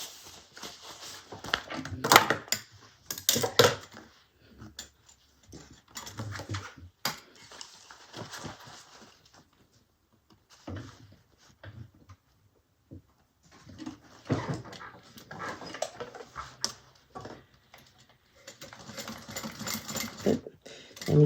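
A sewing machine stitches a Harmony Bag in bursts of rapid, steady whirring and clatter, stopping and starting several times with quiet pauses in between.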